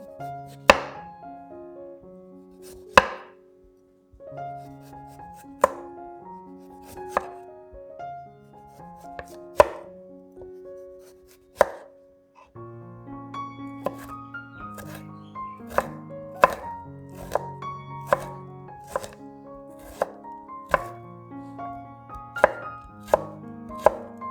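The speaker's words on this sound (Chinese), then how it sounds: "现在将黄瓜切丝，放入盘里备用" A knife slices cucumber into thin strips on a cutting board, with sparse taps at first, then a quick run of crisp, closely spaced chops, all over soft background music.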